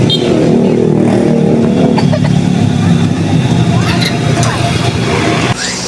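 A motorcycle engine drones and revs close by during a ride, with wind noise and voices talking over it.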